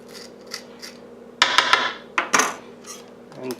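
Knife or spoon scraping seeds and core out of a halved jalapeno, soft close scratches followed by a couple of sharper scraping strokes and light taps against a board.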